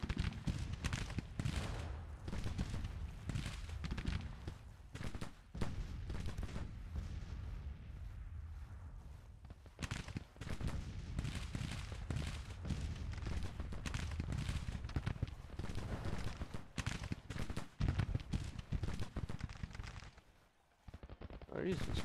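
In a Civil War video game with Confederate infantry, volleys of musket and cannon fire crack and boom repeatedly at a distance, mixed with a voice talking over the battle noise.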